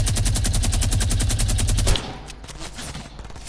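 A new gun firing in a video game, a fast, loud, evenly spaced automatic burst lasting about two seconds that cuts off abruptly, followed by a quieter tail.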